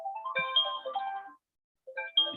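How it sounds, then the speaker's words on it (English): A phone alarm chimes in short melodic bursts, a brief pause, then starts again, fairly quiet and alone. "And that's my alarm going off."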